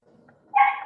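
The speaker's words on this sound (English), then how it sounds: "is that a dog?" A dog barks once during an online meeting, a single short, fairly close bark after a moment of near silence.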